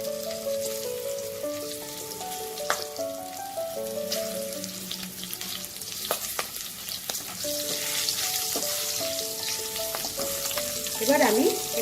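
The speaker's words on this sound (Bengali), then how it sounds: "এবার এই তেলে কালো জিরে আর কাঁচা লঙ্কা ফোড়ন দেব।" Nigella seeds and slit green chillies crackle and sizzle steadily in hot frying oil, a loud continuous spitting fry that stays close throughout.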